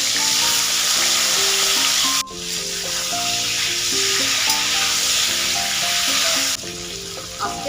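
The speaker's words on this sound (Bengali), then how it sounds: "তেল গরম হয়ে গেছে, ভাজাগুলো দিয়ে দিচ্ছি।" Eggplant pieces frying in hot oil in a home kitchen, giving a steady, loud close-up sizzle with crackling throughout and a brief dip where something is added to the pan.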